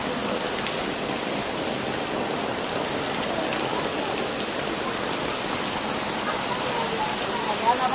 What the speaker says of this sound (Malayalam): മഴ തുടങ്ങി